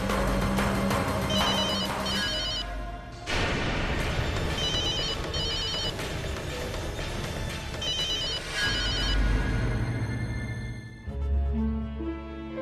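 Telephone bell ringing on and off unanswered in a dramatic scene, several loud bursts of the ring separated by brief gaps and overlaid with tense background music.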